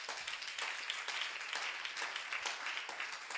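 A church congregation applauding the Lord: dense, rhythmic clapping from many hands, fairly faint and steady, with a few voices mixed in.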